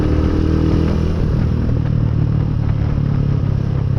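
A GPR 250 motorcycle being ridden, its steady engine drone loud and continuous with low harmonic hum and faint rattling, close to the listener throughout.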